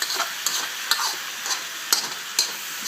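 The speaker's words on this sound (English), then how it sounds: "Add it back in with all the juice and garlic and all that stuff. And then just stir it all together." Spoon scraping and tossing a spicy beef and broccoli stir-fry with garlic in a hot pan, rhythmic stirring strokes every half second over a steady close sizzle.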